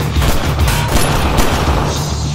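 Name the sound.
gunfire during a shooting contest, from a film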